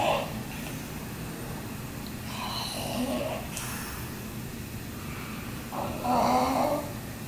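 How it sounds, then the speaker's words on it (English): A brachycephalic dog recovering from soft palate and nares surgery snores softly and rhythmically at close range, each gentle rasping breath repeating steadily over a quiet background. "It's definitely just a cute little snore at this point."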